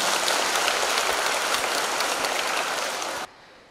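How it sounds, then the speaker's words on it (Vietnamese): Audience applause during a Buddhist dharma talk, a dense, loud, steady wash of clapping that ends abruptly, leaving faint room noise. "Vỗ tay cái đi."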